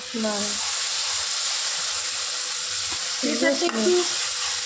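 Ginger, garlic and onion paste with chopped tomato, dried and green chillies and cumin seeds sizzling steadily in hot oil, a constant loud frying hiss with brief voice-like sounds in the background.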